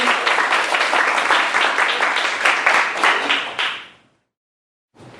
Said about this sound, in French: Donc on applaudit une dernière fois pour nos finalistes.